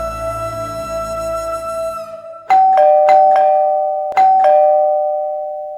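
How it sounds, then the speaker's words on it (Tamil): A doorbell rings with sustained electronic chimes, followed by several sharp repeated ding tones that ring out and decay, loud and close, with no talking. "யாரோ காலிங் பெல் அடிக்கிறாங்க"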